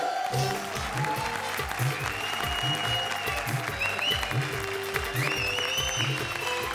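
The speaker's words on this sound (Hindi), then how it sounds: "जोरदार तालियां" A studio audience at a comedy show claps in a dense, sustained burst of applause with a steady rhythm, while a musical sting and some voices sound over it.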